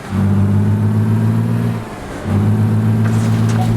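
A Mercedes Tourismo coach engine roars loudly and steadily as it strains up an extremely steep ramp, dipping briefly partway through before surging back to a heavy, sustained drone.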